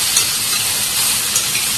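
Gourd peel fries in a pan over low gas, giving a steady, close, dense sizzle with soft hissing and no voices.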